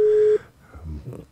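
A steady single telephone tone sounds loud and clear for about a third of a second during a radio-studio phone call, then cuts off abruptly and gives way to faint, muffled voice-like sound.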